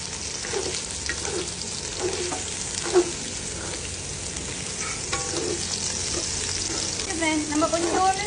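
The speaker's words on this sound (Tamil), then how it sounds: "லைட்டாக எண்ணெயில் வதக்கிடுங்க" Sliced ginger and crushed garlic sauté in hot oil for fish biryani, a steady close sizzle with repeated scraping and stirring strokes that grow busier toward the end.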